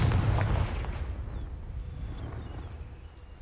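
A Confringo spell in Hogwarts Legacy detonates as a deep, booming blast that hits hard at the start and rumbles away over a few seconds, with no voices.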